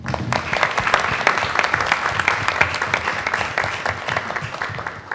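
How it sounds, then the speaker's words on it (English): An audience at a Brooklyn borough board meeting claps steadily for two guests, a dense sustained round of applause filling the whole stretch without a pause. "So if we can give them a round of applause."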